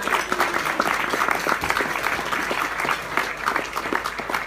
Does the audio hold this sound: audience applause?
yes